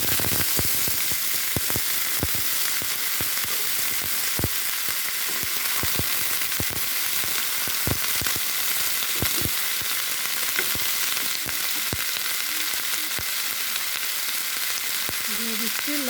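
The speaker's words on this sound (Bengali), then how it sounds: "এখন আমি সুন্দর করে ভাজি করব।" Cauliflower frying in hot oil with five-spice seeds, a steady loud sizzle throughout with frequent sharp spatters and pops, and a brief clink of a utensil near the end; no talking.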